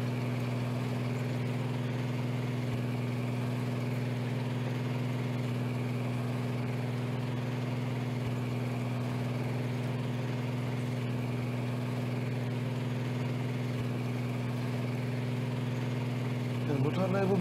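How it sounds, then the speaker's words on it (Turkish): A tractor engine runs steadily in Farming Simulator 19, a strong low droning hum with sustained tonal bands that hold constant for a long stretch, while someone talks over it. "Ya bu da bu boka benzemeyen bir traktör, onu da öğrenmiş olduk."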